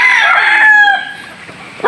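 A rooster crows loudly and close by among farm chickens in rural San Roque, where ducks are also kept; the long crow fades off after about a second, leaving a quieter farmyard background.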